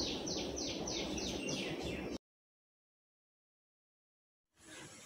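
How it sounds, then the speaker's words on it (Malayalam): Morning birdsong outside: a quick, rhythmic run of repeated high chirps for about two seconds, then the sound cuts out abruptly before faint ambient noise returns. "ഇപ്പം എപ്പോഴും നിറച്ച് കിളിയുടെ ശബ്ദം കേൾക്കും എപ്പോഴും."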